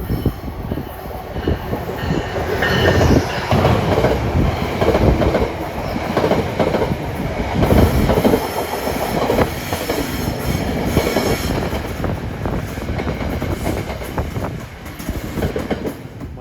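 A train led by a locomotive in Armed Forces livery rolls steadily past close by, a continuous loud roar of rail noise with squealing wheels and rhythmic clickety-clack throughout, without talk.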